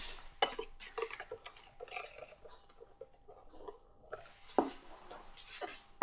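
Chocolate cookie ingredients stirred together in a bowl, a series of soft scraping and clinking taps of a utensil against the dish, irregular and quiet with a few sharper knocks.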